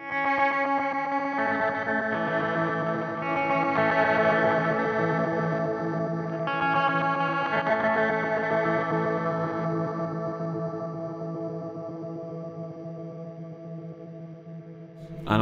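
Meris LVX pedal adding granular effect and distortion that swell in behind a clean electric guitar signal, sustained chords with shimmering, smeared harmonic texture that builds, holds and slowly fades, ending with a brief click.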